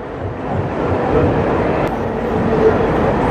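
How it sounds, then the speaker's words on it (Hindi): A diesel locomotive on an Udaipur to Jaipur train gives a steady, close, broad engine rumble that holds evenly throughout. "ये है डीजल लोकोमोटिव जो हमें जयपुर तक लेके जाएगा"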